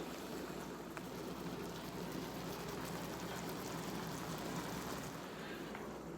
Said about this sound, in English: now we're just frying it up to a crispy golden brown